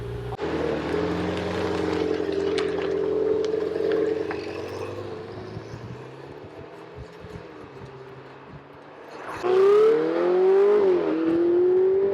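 A Ferrari 488 GTB turbo engine drones steadily at first, eases off, then revs sharply with rising and falling pitch near the end, loud and close.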